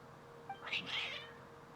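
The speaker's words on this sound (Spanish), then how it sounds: "Your cats seem pretty worked up." Cats meowing in the video game Genshin Impact, a short agitated meow rising over a faint steady hum, with a brief higher chirp just before it.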